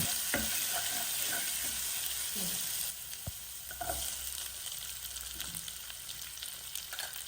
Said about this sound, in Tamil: ஜிஞ்சர் காலிக் பேஸ்ட் போட்டு ஒரு தரம் வதக்கு வதக்கிட்டு